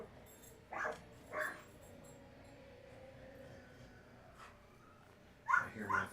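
A female dog lets out short, high puppy-like yips, two quick ones early and a cluster near the end, faint against a quiet indoor background.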